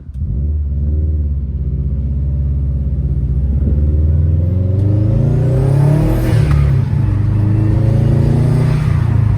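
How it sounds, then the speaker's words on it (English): A car engine with a COBB Stage 1+ tune pulls hard under acceleration, a loud, rising intake roar and whir that builds steadily as the revs climb. "You actually hear the intake."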